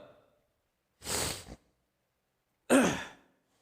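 Two sharp, breathy nasal intakes spaced about a second and a half apart, close and fairly loud, with no talking.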